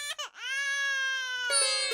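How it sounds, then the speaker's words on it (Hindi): An infant cries loudly and close by in a tense indoor scene, one sustained wailing cry with a brief catch at the start and a rising strain near the end, and no talk over it. "ये तो बच्चे की रोने की आवाज है"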